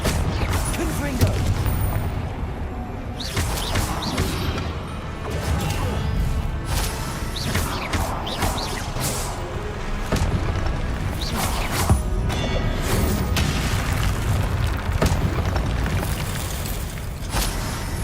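Confringo spell blasts in a Hogwarts magic game crash and boom repeatedly amid whooshes and impacts, a busy, loud combat bed with scattered sharp hits throughout.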